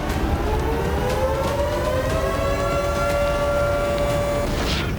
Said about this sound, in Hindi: कीव में कई घंटों तक अलर्ट अलार्म बजता रहा।